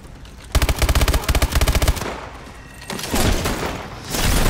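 Rapid automatic gunfire in the Call of Duty: Advanced Warfare video game, two loud bursts of evenly spaced shots followed by more scattered, rumbling fire and distant booms.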